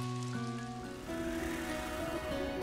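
Steady soft rain falling in the farming video game Story of Seasons: Doraemon, Friends of the Great Kingdom, a constant gentle hiss under faint sustained musical tones, with no talking.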